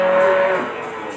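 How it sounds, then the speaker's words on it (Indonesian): A single drawn-out moo from a bull at a cattle market, loud and close, holding a steady tone before it tails off. "Ini ada sapi yang besar sekali, ini sedulur-sedulur jantan ini."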